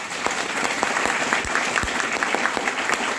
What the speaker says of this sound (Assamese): তালি এটা মাৰি দিয়ক, জবৰদস্ত।